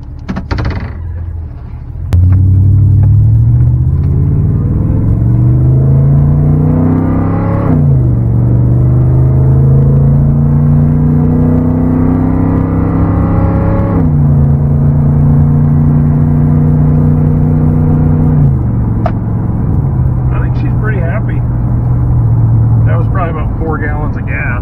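A vehicle with an 8.1 Vortec engine on a test drive: a loud steady engine drone that rises and falls through several gear changes, heard from inside the cab, with no talking.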